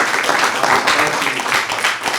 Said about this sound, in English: one more round of applause for Don.